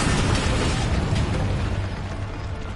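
The Bombarda spell in Hogwarts Legacy on PS5 goes off as a loud, deep explosive burst, a rumbling blast that fills the space and slowly fades without fully dying away.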